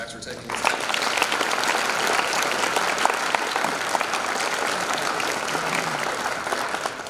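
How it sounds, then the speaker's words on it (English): Sustained applause from a large audience in a high school assembly hall fills the whole stretch, steady and dense with no talking over it. "We have another round of applause for Dr."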